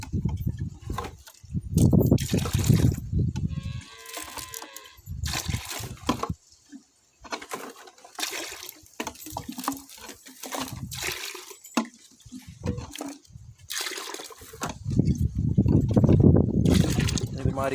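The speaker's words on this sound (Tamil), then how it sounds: "இப்போ அது கூட சேர்த்து தண்ணி ஊற்ற போகிறோம்" Water is poured into a bucket and stirred with a powdered fungicide mix for banana plants, giving sloshing and splashing under a man's steady speech, heaviest at the start and the end.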